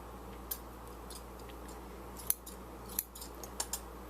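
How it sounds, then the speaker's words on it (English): Scissors snip through yarn after a loom-knitting cast-off, a few sharp, quiet clicks spaced irregularly against a faint steady background hum. "And we're going to cut our yarn."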